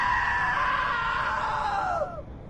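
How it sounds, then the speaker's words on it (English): A woman lets out a long, loud, shrill scream in the video game What Remains of Edith Finch, held for about two seconds before it drops in pitch and cuts off abruptly. "Now that was a great scream."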